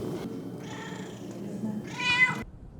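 A stray cat meows: two plaintive meows, the second louder and higher, close by over faint background noise.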